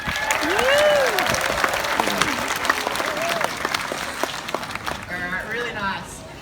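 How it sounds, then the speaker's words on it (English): An audience at an aquarium seal show claps and cheers in a lively burst of applause, with a voice speaking over the crowd noise throughout. "you may want to clap and cheer when you see one of our seals do something really amazing"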